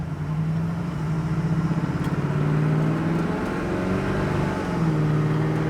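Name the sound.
1969 Chevrolet Camaro SS accelerating, transmission shifting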